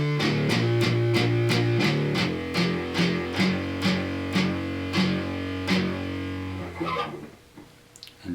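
Distorted electric guitar plays a riff, repeated chugging chords with ringing sustain that slow toward the end before a final slide and mute.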